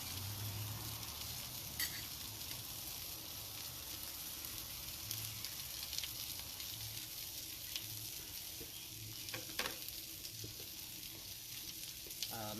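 Cooked onions sizzle and caramelize on a hot griddle in a steady, crackling hiss, with occasional scrapes and taps of a spatula, heard close up and fairly quiet with no talk.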